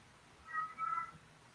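A cat gives two short meows close by, a brief quiet pair of calls against low background hum during a panel discussion.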